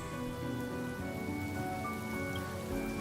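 Steady rain falls in the Honkai: Star Rail video game, a dense, even patter heard alone at a constant moderate level, with faint musical tones beneath it.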